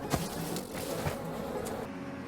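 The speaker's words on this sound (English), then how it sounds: "I'm harvesting the bees so I can get more tokens." Bees buzz around beehives being harvested in the farming game Farm Together, a steady, moderately loud drone that is continuous and alone.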